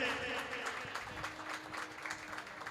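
An audience claps in a temple during a Mahavir Janma Kalyanak evening bhajan program in Ashok Vihar, a steady patter of many hands with faint voices mixed in.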